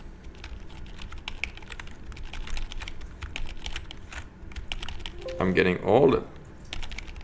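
Rapid clicking keystrokes on a Finnish-layout computer keyboard during a debugging session, close and continuous, with someone speaking partway through.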